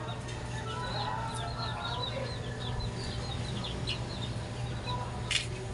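Chickens cluck in a coop on a fifth-floor building in a steady scatter of short calls over a constant low hum, with one brighter squawk near the end.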